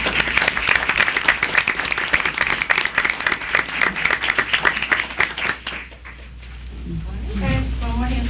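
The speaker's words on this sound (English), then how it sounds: "Round of applause here." Applause at a Springfield Public Schools board meeting, dense clapping from a room of people lasting several seconds, then fading out as a voice begins speaking near the end.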